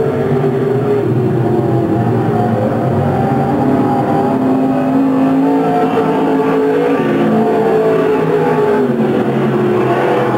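Stock race cars at a 1994 oval-track event roar continuously, close and loud, with engine drones rising and falling as a pack laps the track and passes by.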